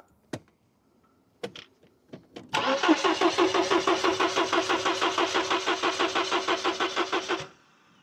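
Mercedes W124 coupe engine, parked for years, cranking after a few scattered clicks and knocks: a steady, rhythmic starter churn lasting several seconds that stops without the engine catching.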